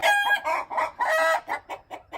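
Backyard chickens clucking and squawking at bedtime, a busy, loud run of overlapping calls and pulses, close by and with no talk.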